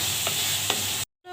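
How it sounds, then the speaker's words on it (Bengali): Ground nut paste frying in a pan with a steady broadband sizzle, two short scraping stirs of a spoon cutting through, then the sound drops abruptly to near silence before a faint return. "এটা একটু ভালো করে নাড়াচাড়া দিয়ে ভেজে নেবেন।"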